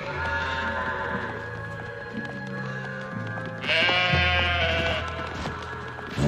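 Sheep bleat repeatedly in a rising, wavering chorus, fairly close and loud, with a horse-like whinny blended in and no talking.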